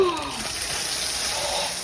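Water runs from a tub spout in a steady, hissing rush, with a brief vocal sound at the very start.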